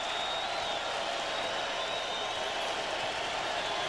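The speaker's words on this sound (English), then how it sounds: "there you see Sprewell with his arms raised and the crowd yelling" Roaring arena crowd at a 1999 Knicks playoff game against the Heat in New York, a dense, sustained wash of cheering and yelling from thousands of fans, loud and continuous without a break.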